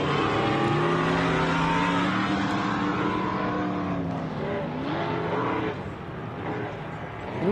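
Off-road race truck, the 5150 of Brendan Thompson, roaring along a dirt track at the 2017 MetalCloak Stampede, its engine droning loud and steady with rising and falling revs throughout.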